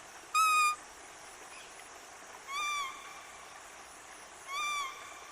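A forest guard in Pakke Tiger Reserve, Arunachal Pradesh, imitates bird calls with his voice: three clear, whistled hoot-like notes spaced a couple of seconds apart over faint outdoor background hiss.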